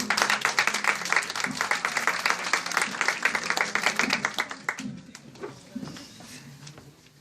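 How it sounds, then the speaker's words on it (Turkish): Audience applause at a poetry recital, dense steady clapping from a crowd for about five seconds before thinning out and fading into quiet. "Alkışlarınızla."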